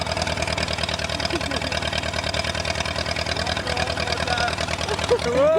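Old museum-piece farm tractor engine running on a farm, a steady fast low chugging pulse close by, with people talking over it and a brief squeal near the end.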